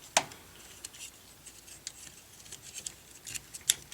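Plastic flaps on a transforming toy robot being opened and turned, giving sharp little snaps at the start and end with faint scattered clicks and rubbing between, close and quiet.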